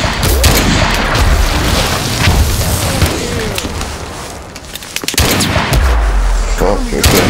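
Rapid gunfire and booming blasts from a trench warfare video game, bursts of shots clustered near the start and again toward the end, loud and dense, with voices talking over the combat.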